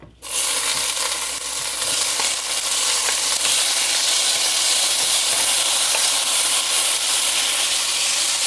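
Fresh garlic, onion and tomato frying in a pan, a loud steady sizzle and hiss that runs unbroken through the whole stretch after an abrupt start, with no talking.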